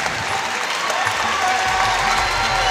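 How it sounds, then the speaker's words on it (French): Crowd applauds at a kickboxing bout after the final round, a dense, steady wash of clapping with faint cheering throughout. "on peut les applaudir"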